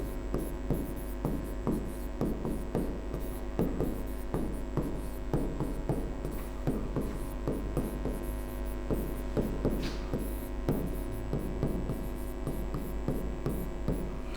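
Pen strokes of handwriting on paper, Hindi letters written out one by one in short scratchy bursts with brief pauses, close and steady over a constant low mains hum, with no talking.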